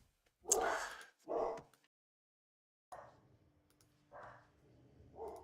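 Pet dogs yipping and whimpering indoors, two sharp close barks or yelps followed by softer whines and short whimpering cries, fairly faint with quiet gaps between them.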